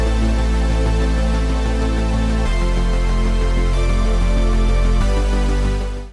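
A dense electronic dance drop of bright, sustained synths plays alone, loud and wall-like, with deep bass notes shifting every couple of seconds before it fades out at the end.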